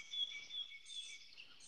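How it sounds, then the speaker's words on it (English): Tufted titmouse song: a faint, thin, high whistled phrase repeated steadily over a quiet background, heard alone without voices. "It's a titmouse. Tufted titmouse."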